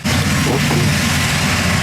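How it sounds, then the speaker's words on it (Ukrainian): A new 400-horsepower tractor working a field in the Khmelnytskyi region, its engine a steady, loud low rumble that holds constant throughout without pauses. "Цей новенький трактор розсікає на одному із полів Хмельниччини."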